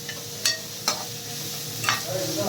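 A quarter spoon of cumin seeds frying in oil, with a steady close sizzle broken by several sharp scrapes and taps of a spoon in the pan.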